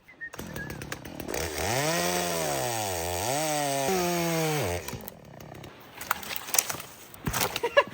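A chainsaw revs loudly, its engine pitch rising and dipping for several seconds as it bites into a log, then cuts out, leaving scattered clunks and rustling.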